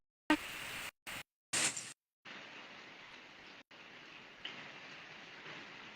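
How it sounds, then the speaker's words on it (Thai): Rain falls steadily, a soft even hiss after a few brief choppy bursts at the start, moderately quiet and without voices. "อย่างฝนตกอย่างนี้"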